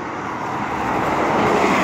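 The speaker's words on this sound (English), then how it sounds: "Look at how fast the bus is coming." A city bus approaches fast through traffic, a broad engine and road roar that swells steadily louder as it nears, with no talking.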